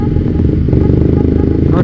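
Motorcycle fitted with an aftermarket RC Speed Proliner exhaust, a loud, steady engine drone with rough pulsing texture, close up throughout in street traffic.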